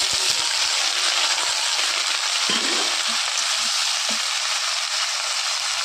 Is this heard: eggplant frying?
yes